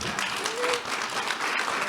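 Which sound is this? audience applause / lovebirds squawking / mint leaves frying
audience applause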